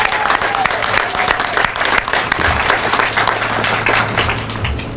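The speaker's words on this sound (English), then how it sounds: "everybody please give them a round of applause" An audience at a sheriff's office Purple Lights Nights lighting ceremony claps for awardees, giving loud, sustained applause from many hands all the way through, with some voices mixed in.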